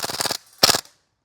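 Novritsch SSQ4 airsoft rifle firing two quick full-auto bursts, each a rapid rattle of shots about a third of a second long, separated by a short pause, close and fairly loud.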